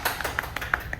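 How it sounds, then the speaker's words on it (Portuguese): A small church audience claps for their pastor, a brief, irregular patter of scattered hand claps with a few sharper strikes, close and modest in volume, with no talk. "palmas pra ela, gente"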